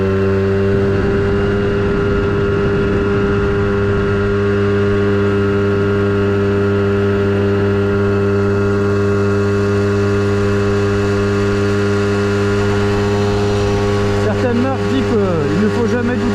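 A Moto-Compo motorized suitcase whines steadily as it climbs a hill, a sustained tonal motor drone holding near-constant pitch, with a wobbling strain and rattle toward the end.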